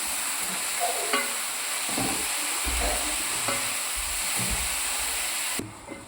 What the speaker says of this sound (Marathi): व्यवस्थित मिक्स करून घ्यायचं आहे।